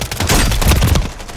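A quick, loud burst of rapid gunfire from the Call of Duty video game, several overlapping shots crackling in close succession for just over a second.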